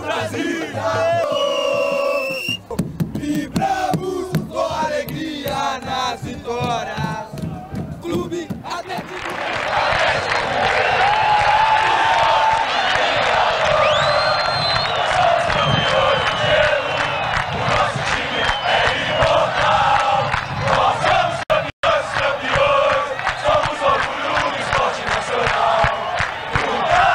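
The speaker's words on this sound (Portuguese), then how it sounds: "É a maior torcida do Brasil" Atlético Mineiro (Galo) supporters in a packed stadium during a match, a loud dense crowd roaring and chanting continuously, with earlier voices and shouts giving way to a sustained massed chant.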